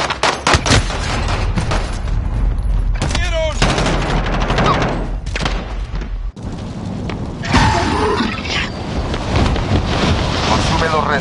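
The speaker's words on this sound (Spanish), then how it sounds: "¡Estoy disparando!" Dense bursts of automatic gunfire from the Call of Duty Warzone battle royale shooter, loud and sustained over about eleven seconds with wind and a brief dropout midway, while a player shouts over the shooting.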